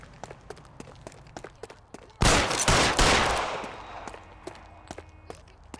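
In the video game L.A. Noire, a loud burst of gunfire erupts, with several overlapping shots that ring out and slowly die away. Quick ticking steps run through the quieter stretches before and after it.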